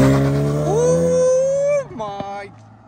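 A Jaguar F-Type P300 sports car revs with a rising engine note and pulls away, the sound dropping off sharply after under two seconds, with voices nearby.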